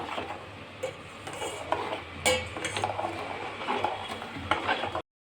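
Semolina being stirred with milk and sugar in a pan for rava halwa, soft wet scraping and spoon clinks against metal in an uneven rhythm, close but fairly quiet, with no speech.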